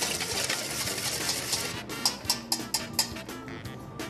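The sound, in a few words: whisking garlic, olive oil, parsley, salt and pepper in a bowl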